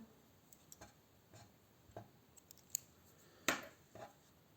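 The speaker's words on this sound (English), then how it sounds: "cut the yarn" Scissors snip through crochet yarn once, a single close, crisp cut standing out against near silence, with a few faint taps before and after.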